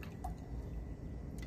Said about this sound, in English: and I'm gonna pour my simple syrup